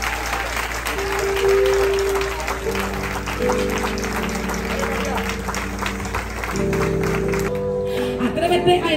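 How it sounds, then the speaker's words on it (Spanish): A church congregation claps loudly and continuously during a sermon, with sustained keyboard chords playing underneath the applause. "Con ese aplauso yo les predico 30 minutos."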